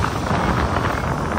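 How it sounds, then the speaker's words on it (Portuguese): Steady wind blowing across the microphone at a seaside beach, a constant broadband rush with no gaps, close and fairly loud, with no voices. "Ventando bastante."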